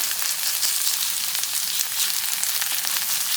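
Minari pancake (Korean pancake batter with water dropwort) frying in plenty of oil in a pan, a steady close, bright crackling sizzle that holds throughout without pause.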